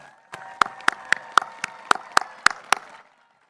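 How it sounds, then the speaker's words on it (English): At a physician assistant white coat ceremony, a few people clap about ten sharp, evenly spaced times, then it stops. The claps are crisp and fairly close against a quiet room. "Can we congratulate all of them with a big round of applause?"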